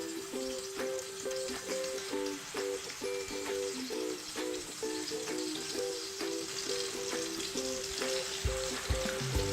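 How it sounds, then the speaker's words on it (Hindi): Chapli kebabs fry in a pan over medium heat, a steady dense sizzle of oil running unbroken throughout, close and fairly loud, with faint rhythmic patterned tones behind it. "और ये इनको फ्राई करूँगी अब"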